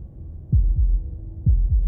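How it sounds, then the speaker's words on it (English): A heartbeat sound effect from the video game Slay the Princess, with two deep, low double thumps in a slow, steady lub-dub rhythm over a faint hum. No one speaks. "That was the sound of a heartbeat, followed by another, and another."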